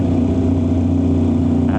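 Aprilia RS660 motorcycle riding in third gear in its softest commute mode, the engine droning loudly and steadily up close with a slightly uneven, choppy throttle response.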